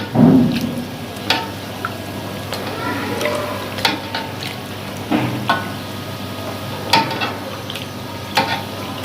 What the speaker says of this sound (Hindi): इस तरह हम अब इसे फ्राई होने देंगे